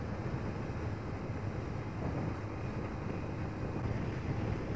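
Strong wind buffets the microphone while a Yamaha Vixion motorcycle rides a wide road past gardens between Pare and Wates in Kediri, making a steady, loud, rumbling roar with no pauses and no talk.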